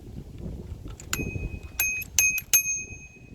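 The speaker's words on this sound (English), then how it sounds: "it comes with a cute little bell" A small bell on a folding electric bike rings several times in quick succession, bright and close, over a low rumble of wind and movement.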